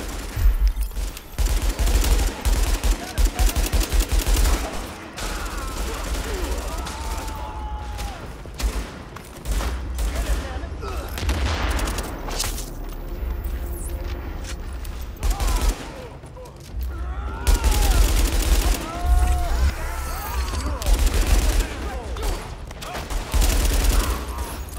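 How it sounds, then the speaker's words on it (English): Heavy, sustained gunfire rages in the video game The Division, dense bursts of automatic shots and booms repeating throughout with brief lulls, along with occasional voices and game tones in the mix. "Party's taking heavy fire from the roof."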